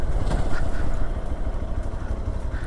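An off-road motorcycle engine rumbles continuously at low revs on a trail in Himachal Pradesh, a loud, close, uneven chugging with some rattling and no talk.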